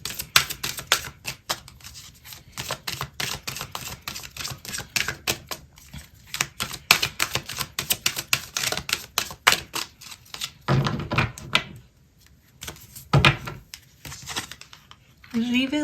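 Advice cards are shuffled and drawn for a weekly horoscope reading: a dense, rapid crackle of riffling cards runs for about ten seconds, then a few softer handling rustles follow as a voice begins to speak.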